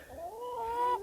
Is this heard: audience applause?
no